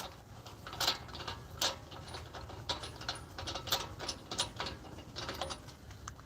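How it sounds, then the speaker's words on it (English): Lug nuts being worked off a car wheel, faint ratcheting clicks and metallic taps in an uneven rhythm over low background noise, no talking. "Now we're taking the lug nuts off."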